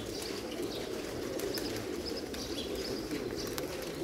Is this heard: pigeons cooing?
yes